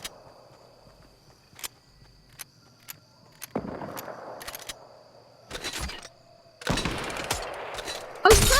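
Scattered sharp gunshots in a video game, single cracks at first building into denser bursts of fire, with footstep-like thuds and a loud shot at the end.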